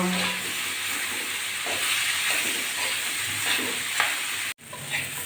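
Bitter gourd with onion and green chilli sizzles steadily in a pan, a constant close hiss of frying with faint stirring scrapes and a brief cut near the end.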